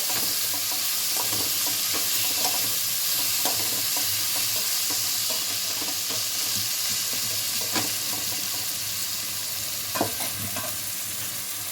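Drumstick curry being stirred in a pot after the lid comes off, with steady scraping and clinking strokes over a continuous background sizzle, close and moderately loud, no voices.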